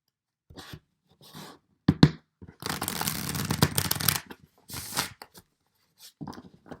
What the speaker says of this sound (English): We'll shuffle 2 more times.